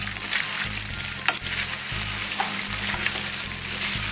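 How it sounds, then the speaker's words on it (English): Leftover pre-cooked pasta frying in a pan: a constant, close sizzle with crackling and a few soft stirring scrapes, steady throughout with no talk. "And now I'm gonna immediately put in already pre-cooked pasta, some leftover pasta I had."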